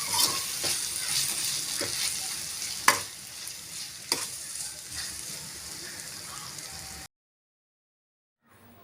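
A spoon stirs chili powder and spices sizzling in a hot pan for a tamarind okra curry, steady frying hiss with a few sharp scrapes and clicks, then the sound cuts to silence.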